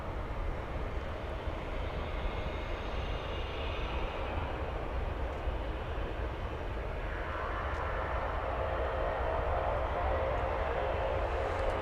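A Martinair cargo airplane taxis at DFW airport, its engines making a loud, continuous broadband roar with a slowly shifting whine.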